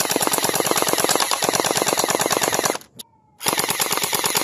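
A toy gel blaster fires continuously in a rapid, even stream of loud close shots, cuts out briefly near the end with a faint motor whine, then resumes firing.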